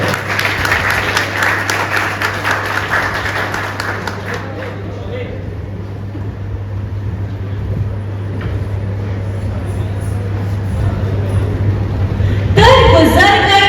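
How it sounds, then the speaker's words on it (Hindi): Loud applause from an audience at an Ambedkar Jayanti celebration held at a medical college in Saharanpur. Clapping runs continuously over a steady low hum and rises again near the end as a voice begins speaking. "जोरदार तालियों से उनका आंसू बढ़ाएंगे।"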